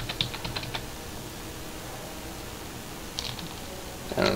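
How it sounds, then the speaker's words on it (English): Keys tapped on a computer keyboard while entering a password: a short quick cluster of clicks at the start, a pause of near quiet, then another brief burst of typing, fairly soft and close. "Go down to Open Keyboard and just type in your password."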